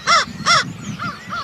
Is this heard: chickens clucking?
no